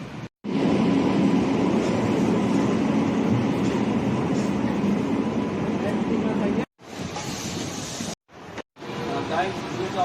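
Electric trains at an Indian railway junction produce a constant heavy rolling rumble and rattle, loud and close, broken by a few sharp cuts, with a voice talking over the din.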